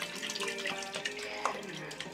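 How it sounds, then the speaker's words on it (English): Water running into a container to soak a dried luffa sponge, a soft, steady trickling hiss with small splashes, faint and close, with no one talking. "I just filled up with water."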